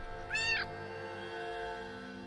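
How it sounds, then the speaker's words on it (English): A single clear cat meow from a horror video game, short and rising, then a quiet hum from the game's ambience. "Go away, stupid cat."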